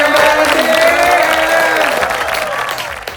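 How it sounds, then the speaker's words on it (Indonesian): Audience applause with some cheering for a student singer at a high school concert, a loud dense wash that slowly fades over a few seconds while a sustained musical tone lingers underneath. "beri tepuk tangan yang meriah untuk Yuli"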